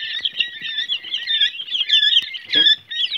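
Quail in a brooder setup give a rapid run of high, thin chirps and peeps, close and fairly loud, with no voices.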